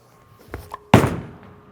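A DV8 Hater bowling ball released onto the lane, a couple of soft thumps followed by a heavy thud that fades into a short rumble.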